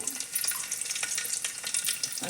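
Cumin, mustard seeds and garlic crackling in hot oil in a home kitchen, a dense, close run of sharp pops and sizzling spatters with no talk.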